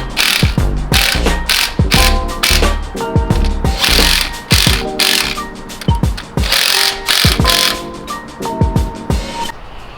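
Hand ratchet clicking rapidly in repeated bursts while a fuel rail fitted with 1000cc injectors is installed, close and loud, with brief pauses and clanks of metal between strokes.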